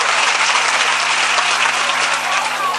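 Loud, dense applause from a large audience at a protest mushaira against CAA and NRC fills the whole moment, steady and unbroken without individual voices standing out.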